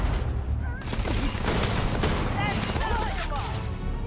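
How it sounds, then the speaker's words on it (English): Sci-fi firearms fire in the game Starfield, a dense, continuous fusillade of shots with whistling tones close by, no clear pauses. "Turn your back and someone's shooting you?"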